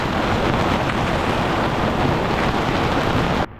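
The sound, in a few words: gusty wind at the bay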